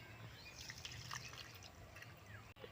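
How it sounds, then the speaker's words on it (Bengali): Warm milk is poured from a bowl into semolina, giving a soft, continuous trickling and splashing close by, fairly quiet and alone. "এই দুধটাকে ঢেলে দিচ্ছি"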